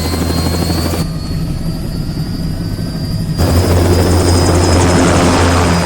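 Helicopter in Metal Gear Rising lifting off, a loud steady rotor chop and turbine whine that briefly dips then swells back to full power.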